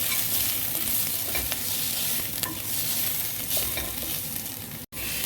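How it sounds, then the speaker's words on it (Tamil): Chilli and turmeric powder get stirred into sizzling oil in a pan for a broad bean kurma, a loud continuous fry hiss broken by spatula scrapes, close up, with a brief cut near the end. "இப்போ இதை நல்லா மிக்ஸ் பண்ணி விட்டுக்கலாம்."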